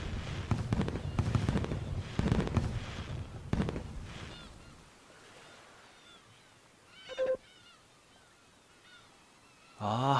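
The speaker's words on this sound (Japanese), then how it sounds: "花火は海岸で見るのが一番だな" Loud crackling bursts and booms fill the first half, then quieter pops with a whistling rise and a sharp burst near the end, from a fireworks festival at the beach in Story of Seasons: Friends of Mineral Town.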